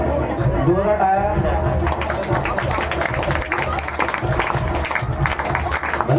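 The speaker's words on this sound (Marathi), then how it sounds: "जोरात टाळ्या." An audience bursts into clapping at a school student award ceremony, starting just after a voice and continuing as dense, close applause mixed with crowd chatter.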